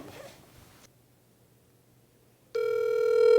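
A telephone call is connected during a Korean talk broadcast. Faint handling noise gives way to a quiet pause, then a loud, steady electronic ring tone starts and continues.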